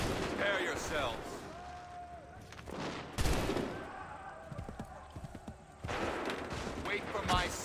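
Soldiers firing muskets in a battle in Assassin's Creed 3, scattered sharp shots and a ragged volley among hoofbeats and horse whinnies, with shouted voices throughout.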